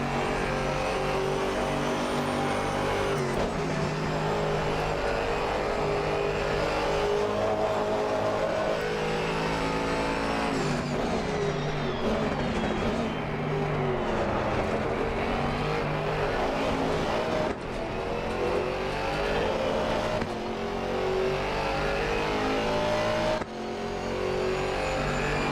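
GT4 race car engines drone loudly and continuously in a racing video game at Suzuka, with a close engine revving up and down through gear changes and other cars' engines layered underneath.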